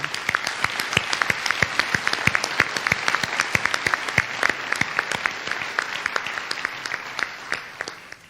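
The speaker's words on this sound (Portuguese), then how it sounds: "Me quero forte aplauso para toda a família de nossos candidatos" Sparse applause at a candidates' launch event in Aruba, individual claps clearly separated in a steady, moderately loud patter that continues throughout with no talk over it.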